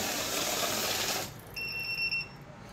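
A steady broadband whirring of a mixed-note banknote counting machine running, then it stops and a pair of high electronic beeps sound briefly.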